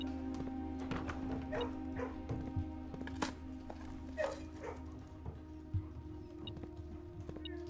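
Dogs barking in the video game Blue Prince, a series of short, clear barks and yips at an even distance over a steady low game hum.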